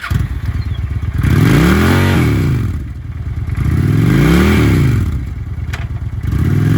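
A used 2009 Honda Shadow Spirit 750 V-twin cruiser motorcycle revving loudly and close, with two long throttle swells rising and falling over a steady idling rumble, and no talking.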